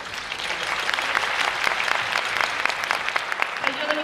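An audience at a yosakoi dance festival in Fukushima gives warm applause, many hands clapping in a steady, moderately distant wash, with a faint voice emerging over it toward the end.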